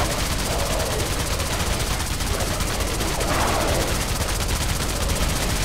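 Dense, continuous gunfire rattles nonstop in the video game Alien Breed, loud rapid automatic bursts filling the whole stretch with no pauses.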